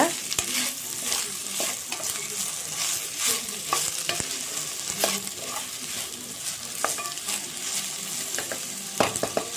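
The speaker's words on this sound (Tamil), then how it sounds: "இதில் பச்சை மணம் போகிற அளவுக்கு வெண்டைக்காவை இந்த எண்ணெயிலேயே நல்லா வதக்கிக்கலாம்." Sliced okra stir-fried in oil in a pan, a constant close sizzle under repeated scraping strokes of a spoon, steady and fairly loud throughout with no talking.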